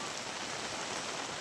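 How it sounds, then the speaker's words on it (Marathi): Heavy monsoon rain pours down in a steady, dense hiss with no break or voices, faint and uniform throughout. "अगं पाऊस उघडू दे"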